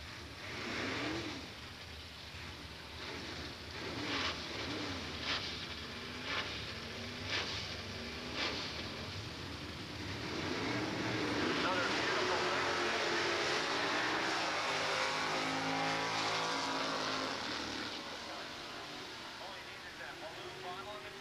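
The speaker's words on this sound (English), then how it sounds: "Next pair will have a Chevy Camaro on the Winston side and a Chevy 2 on the pit side lane." A Chevy Camaro and a Chevy II launch side by side at a Raceway Park drag strip, engines rising into a loud sustained roar that builds in the second half as the street-licensed cars accelerate away.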